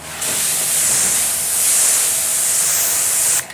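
A strong, continuous hiss of pressurized water spray rinsing iron decontamination product off a car's paint runs steadily for a few seconds, then cuts off abruptly.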